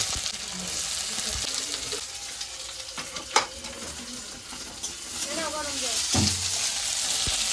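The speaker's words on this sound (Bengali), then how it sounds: "আমি এখন সামান্য জিরা দিয়ে দেবো জিরাটা হয়ে গেছে পেঁয়াজটা দিয়ে" Cumin and chopped onion fry in a little oil in a pan, a steady close sizzle broken by stirring clatters and a few sharp utensil knocks.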